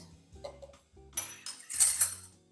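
A spoon clinks and scrapes against a pan while vanilla and salt are stirred into butterscotch candy, a few light metallic taps followed by a brighter rattling scrape, close and clear with no voices.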